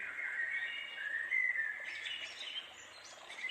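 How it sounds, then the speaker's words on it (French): Birds chirp and trill in a busy, continuous chorus, fairly faint and distant, with no voices. "Avec le bruit des oiseaux, on s'imagine dans la nature."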